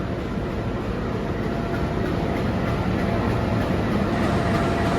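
Inside a KA Pangrango passenger train running from Bogor to Sukabumi, a constant loud rumble and rattle of the carriage fills the space without pause.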